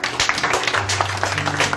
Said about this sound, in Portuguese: Aplauda o Senhor e poder sentar.